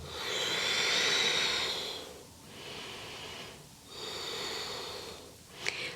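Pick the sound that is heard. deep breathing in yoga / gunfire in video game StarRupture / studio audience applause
deep breathing in yoga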